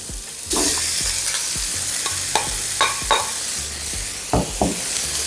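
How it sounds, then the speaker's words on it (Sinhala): Vegetable fried rice being stir-fried in a pan: a steady sizzle punctuated by repeated sharp scrapes and knocks of a spatula against the pan, close and without speech. "ඊට පස්සේ බත් එක දාලා මේ විදිහට මේ අවලම් කරගන්න."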